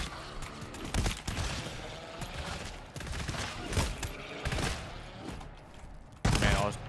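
Rapid machine pistol gunfire in a shooter video game, bursts of dense shots running almost continuously with a heavy burst near the end, under quiet speech.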